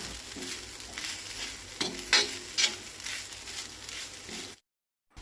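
Onion and grated coconut frying in a pan over low gas, a soft, continuous sizzle with a few brief scraping stirs, close and fairly quiet, then cut to silence near the end.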